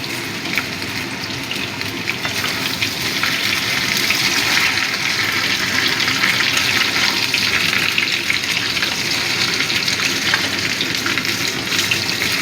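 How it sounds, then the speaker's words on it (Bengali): Chunks of pumpkin, spiny gourd and pointed gourd fry in a pan, giving a loud, dense, continuous sizzle with faint stirring beneath it. No voices are heard. "সব কিছুই ভালো করে ভেজে নেব"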